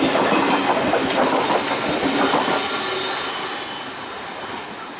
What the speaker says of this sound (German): befinden uns auf dem Würzburger Hauptbahnhof